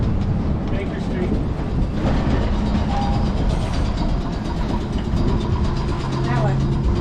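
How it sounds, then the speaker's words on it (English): A tram rumbles along a street in Nelson, a steady loud rolling and rattling with faint squeals, while people talk over it nearby. "And now we are going to get a tram."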